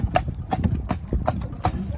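A horse fitted with a soft rubber bit walks with a steady clip-clop of hooves, about two footfalls per second, close by and fairly loud.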